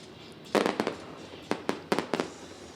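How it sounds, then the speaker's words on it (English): Fireworks over the Diamond of Dirt dirt speedway during a super stock race, several loud sharp bangs and crackles, some in quick pairs, rising over a low background rumble. "Fireworks atop the skyline here at the Diamond of Dirt tracks"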